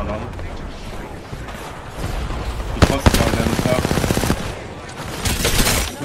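Rapid automatic gunfire in the video game Apex Legends rattles in mid-distance bursts, strongest in the middle and again near the end, mixed with game noise while players talk over it.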